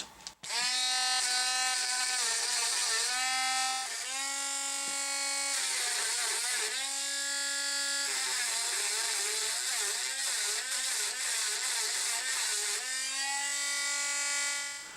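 A fairly coarse grinding stone working metal while cleaning up before bushings are fitted and honed, a loud steady whirring drone with shifting pitch that runs for the whole stretch with brief dips.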